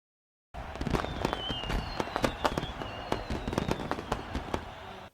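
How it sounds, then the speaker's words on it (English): Fireworks crackle and pop in a dense, rapid series of sharp bursts over a continuous hiss, with a faint whistling streak, heard in a scene set on Tatooine in Star Wars: The Mandalorian. "Tatooine fireworks, looking happy."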